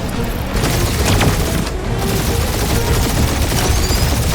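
Sustained barrage of gunfire pounds the Milano spaceship in Guardians of the Galaxy, a dense, continuous rattle of shots and booming impacts with no break, loud and close.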